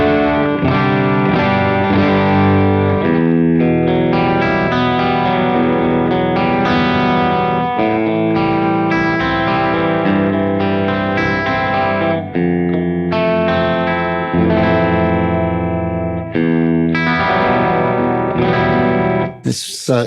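Electric guitar through a Soldano SLO Plus overdrive pedal with its deep switch engaged, thick saturated chords and riffs ringing continuously for about twenty seconds, loud and dense with a heavy low end.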